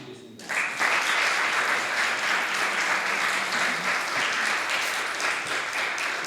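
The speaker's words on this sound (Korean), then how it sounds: "연합 찬양대에게 다시 한번 뜨거운 박수 부탁드리겠습니다" A church congregation at a Christmas service on an air force base applauds the combined choir after a cantata; clapping swells in quickly and holds steady and full for several seconds.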